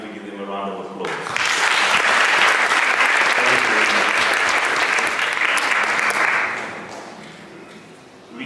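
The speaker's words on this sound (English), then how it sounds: "So I'd like maybe to give them a round of applause." Opera audience applause for the Friends of the opera at a UCT Opera School performance of La serva padrona: a voice trails off as dense, sustained clapping swells in, holds steady and loud for several seconds, then fades.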